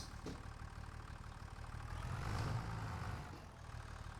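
A small tractor engine idling in Farming Simulator 25 on a Missouri farm: a steady, low mechanical hum that swells slightly midway and then settles, with no talking over it.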